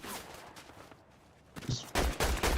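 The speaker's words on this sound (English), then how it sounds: "You have gunfire in like all different directions." Rapid bursts of gunfire crackle from several directions, close and loud, with a stretch of quieter background between volleys.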